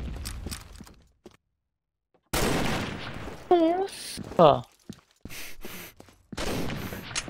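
Gunfire in a shooter video game comes in sharp bursts of shots separated by quiet gaps, and a player briefly exclaims between volleys.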